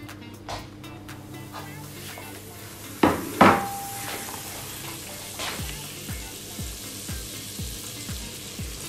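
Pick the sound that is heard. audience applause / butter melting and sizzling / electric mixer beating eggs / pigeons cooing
butter melting and sizzling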